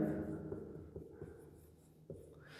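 Marker or chalk strokes on a classroom board during a math lesson, a few soft scratchy bursts with short pauses, fairly quiet, alone without talk.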